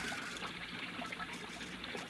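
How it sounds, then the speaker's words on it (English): Water trickles steadily in an ornamental recirculating fountain, a soft continuous splashing and dribbling heard faintly and alone. "Most ingenious, my fountain."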